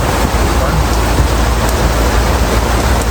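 Heavy rain drums steadily on a sailboat's Bimini canopy at sea, a loud, dense, unbroken hiss and patter close overhead.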